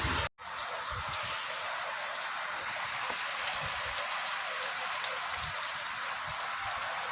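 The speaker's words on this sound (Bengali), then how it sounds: "বাইরে বৃষ্টি আরম্ভ হয়ে গেছে" Steady, even rain hisses continuously outdoors, a dense wash of drops with no pauses and no one speaking.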